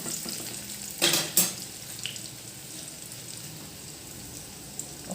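Cumin seeds hit hot oil in a pan while cooking an Assamese thali, giving a bright crackling burst followed by a quieter, steady low sizzle with a few faint pops, close by and without talking.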